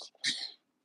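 A single short sneeze bursts out close by and fades quickly, with a soft breath just before it.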